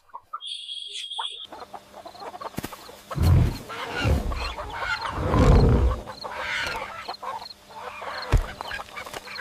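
Cartoon chickens cluck and squawk in several loud bursts, with a short electronic tone at the start and faint voices mixed in.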